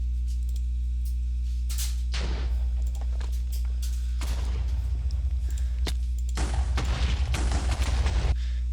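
Grenade explosions in a Minecraft weapons mod, three separate booming blasts spaced a couple of seconds apart over a steady low hum.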